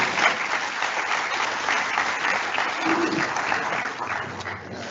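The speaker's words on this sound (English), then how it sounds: "You can't even clap for me." A crowd of students at a Kenya School of Law orientation claps steadily and fairly loudly for several seconds, a dense even wash of applause with no speech over it.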